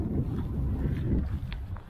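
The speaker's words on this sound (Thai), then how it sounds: "วันนี้ลมดีมากเลยทุกคน" Steady outdoor wind buffets the microphone with a low, rumbling roar at a kite-flying spot near drying water, continuous and fairly loud throughout.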